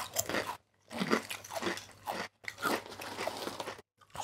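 Crunching bites of thick butter shoyu flavored potato chips from a Japanese 7-Eleven, loud and close, in several bursts separated by short silent pauses.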